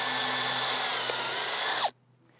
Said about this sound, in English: Next, you're going to want to drill 3/4 of an inch to 1 inch past the bark